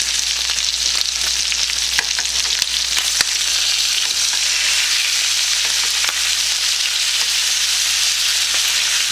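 Maple butter salmon fillets frying in a pan over medium-low heat, a steady loud sizzle with a few small pops and stirring clicks, no voices.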